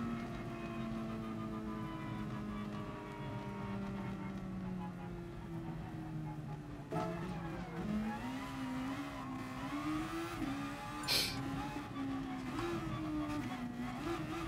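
A race car engine in Gran Turismo Sport holds a steady droning pitch, then climbs and wavers as it revs and accelerates, with one brief bright spike near the end; fairly quiet, no voice over it.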